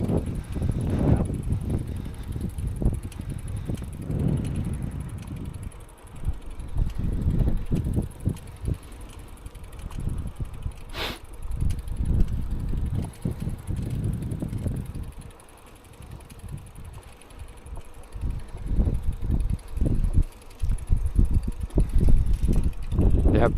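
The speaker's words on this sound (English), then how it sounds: "The wind keeps it nice and chill." Wind buffeting a microphone while cycling along a patched road on a hot day, uneven gusty rumbling bursts that rise and drop, loud and close, with faint bicycle rolling noise beneath.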